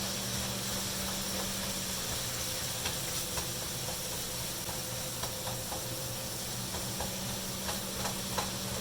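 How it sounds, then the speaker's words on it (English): Ground meat fries in a pan with a steady close sizzle while onions and mushrooms are stirred in, light spoon scrapes and taps recurring over the hiss. "start incorporating your onions and mixing in your onions and your mushrooms into your meat"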